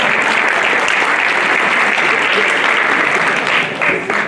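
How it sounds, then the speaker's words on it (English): A banquet crowd at a school athletic awards dinner breaks into loud, sustained applause, dense and continuous throughout, tapering slightly at the end. "she needs a big round of applause for that."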